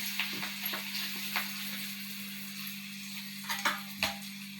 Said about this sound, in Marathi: 2-3 मोहऱ्या टाकल्या, 2-3 कढीपत्त्याचे पानं घालते आणि थोडीशी चिमूट हिंग घालते